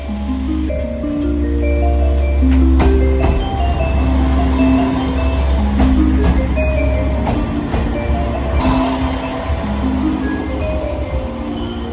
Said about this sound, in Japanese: ちょうど発特急花嫁のれん1号和倉温泉行きが到着します。